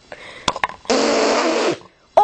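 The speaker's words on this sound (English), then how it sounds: "Oh, did she just fart?" A loud, sustained fart-like blast of about one second, preceded by a few short thumps and followed by silence, then a brief rising squeak at the end.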